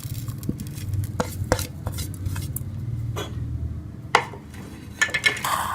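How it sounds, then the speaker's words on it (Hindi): A spoon stirring and scraping a potato mixture with spices in a bowl for instant bread dahi bhalla, soft irregular scrapes with a few sharp clinks, close and without talking. "अब हम एक बाउल के अंदर ये आलू का मिक्सचर डालेंगे और इसमें ये सारे मसाले शामिल कर देंगे।"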